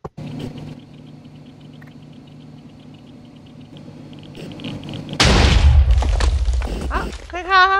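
A nuclear reactor blows up inside an open-roofed containment chamber in the Minecraft IC2 mod: a quiet electrical hum with a voice, then a sudden loud, sustained roaring blast that rumbles on for the last few seconds.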